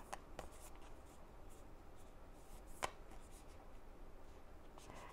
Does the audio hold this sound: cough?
no